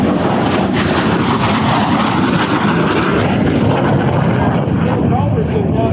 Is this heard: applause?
no